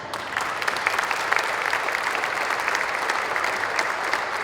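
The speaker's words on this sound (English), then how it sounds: "one last round of applause for them" Audience applause at a USL press conference announcing a Rio Grande Valley expansion club, a steady dense patter of many hands clapping, sustained at moderate loudness throughout.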